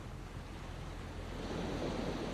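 Sea waves at Hegar beach wash in as a steady, broad roar of surf that swells slightly louder toward the end, with no voices.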